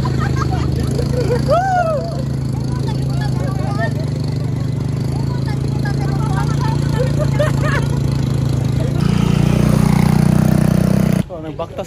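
A motorcycle on Camotes Island in Cebu, Philippines, carries riders with a steady engine drone under close talk, then the engine note rises and strains for a couple of seconds before cutting off abruptly.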